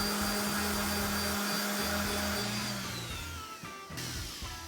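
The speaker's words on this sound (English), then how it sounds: "You just get your sander on the corner and kind of gently rock it back and forth." Electric sander rounding over the edge of a wooden cutting board, a loud steady whirring whine that wavers as the tool rocks on the corner and fades near the end.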